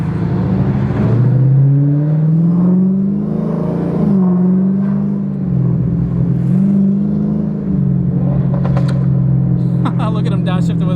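A Dodge Hellcat running on E85 drives at moderate pace, its engine note droning, then dropping and climbing again through several downshifts, with a steady low rumble and a person talking inside the car.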